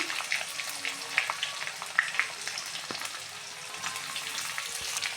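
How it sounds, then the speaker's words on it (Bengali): Chopped onion fries in a hot pan for an egg pasta dish, giving a steady, fairly quiet crackling sizzle with a few sharper pops throughout. "এবার পেঁয়াজ কুচিটা দিয়ে দিচ্ছি"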